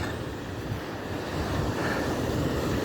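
Surf breaking on a beach after a spell of heavy storms, with wind buffeting the microphone; a steady, broad roar that swells slightly toward the end, with no voices.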